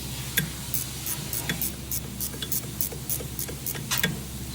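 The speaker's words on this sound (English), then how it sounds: "let's use our ratchet wrench and snug these up" A ratchet wrench snugs up the coupler bolts on a Nike 1000 with rapid bursts of crisp clicking, close and distinct, repeating in short runs over a low steady hum.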